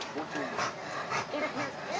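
A toy-sized dog whimpers and yips softly in short, uneven whines, fairly quiet and close, with bits of background voice around it.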